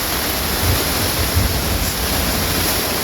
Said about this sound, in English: just a little bit of rain